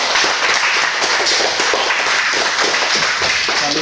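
Steady, close applause from a group cheering karate students after their belt grading exam at a club, dense even clapping with no pauses from start to finish.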